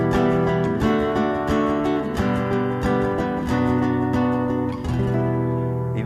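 An Esteban classical guitar strummed with loose down-and-up strokes, ringing nylon-string chords layered in a steady continuous wash, close and moderately loud with no voices.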